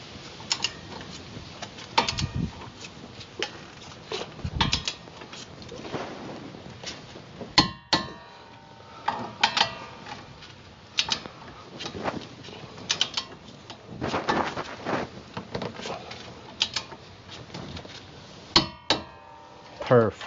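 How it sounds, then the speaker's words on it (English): A 1/2-inch torque wrench tightens 21mm brake bracket bolts on a Dodge Dakota front brake, giving sharp intermittent ratcheting clicks and metallic ticks close by, with a voice talking throughout. "we're going to use a 1/2-inch torque wrench, and we're going to torque these 21mm bolts to the bracket"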